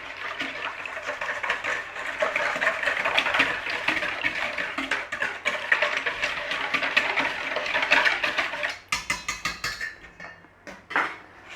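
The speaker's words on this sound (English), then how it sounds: "Give it a beat, we're making a custard." Eggs and spice are whisked briskly in a bowl for a cranberry bread pudding custard, a close, busy clatter of utensil against dish that breaks into separate, rhythmic taps near the end, with no one speaking.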